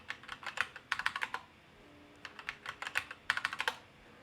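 A username being typed on a keyboard for an Alpine Linux setup on an iPad: two bursts of quick, close key clicks separated by a short pause, no voices.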